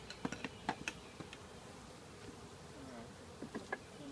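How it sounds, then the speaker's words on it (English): A dense, steady hum of many honey bees in an open hive fills the air, broken by scattered light clicks and taps of frames near the listener. "on the top frame, there's more bees than I thought there were."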